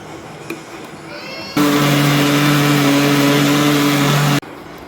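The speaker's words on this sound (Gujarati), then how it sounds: "હવે આપણે મિક્સરમાં રસ પીસી લેશું" An electric mixer grinder blends mango pieces with sugar and water in a kitchen, a loud steady motor whine running about three seconds after a quiet start, then stopping abruptly.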